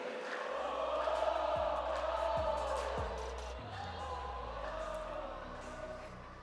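A live crowd at the Gamers8 Fortnite LAN tournament roars continuously in a big venue, a broad, sustained wash of cheering with deep booming tones underneath.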